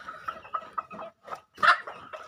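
Free-ranging country hens in Kollam, Chavara give a quick run of short, close clucks with brief pauses, ending in a slightly louder burst, no voices present.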